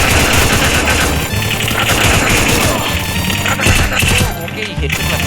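Dense, rapid gunfire from the video game Free Fire rattles almost continuously, loud and cluttered with overlapping bursts and impacts, while a player's voice talks over the action.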